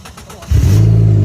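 A Dodge SRT4's engine starts and then revs loudly up close, with a sudden roar that holds a steady, strong idle after a quieter opening.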